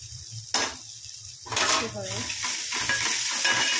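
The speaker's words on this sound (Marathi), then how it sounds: "हळद टाकून चांगलं ह्याला परतवणार आहे मंद आचेवर" Potato filling with turmeric sautéed on a low flame for aloo paratha, soft sizzling with repeated spatula clinks and scrapes against the pan, close and fairly quiet.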